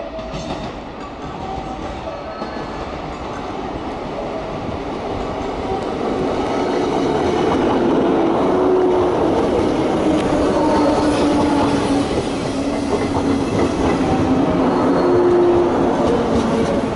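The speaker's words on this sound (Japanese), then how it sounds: "3番乗り場に電車が参ります。" A Japan Railways Class 115 train, two units in all-yellow livery, rumbles steadily into Aioi Station, its low roar building over the first seconds and holding loud, with faint squeals and rattles of the wheels.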